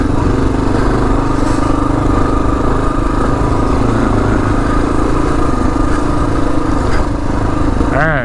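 A 2022 Kawasaki KLR 650 motorcycle engine roars loud and close during an off-road wheelie, a continuous throaty drone with wind buffeting throughout.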